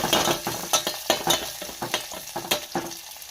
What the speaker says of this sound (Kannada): ಸ್ವಲ್ಪ ಉಳ್ಳಾಗಡ್ಡಿ ಹಾಕಿ ಮಿಕ್ಸ್ ಮಾಡೋಣ